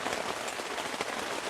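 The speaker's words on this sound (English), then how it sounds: "it is raining like a lot" Heavy monsoon rain drums steadily on a camping tent and its rain fly, a dense, loud, continuous patter close by with no voices.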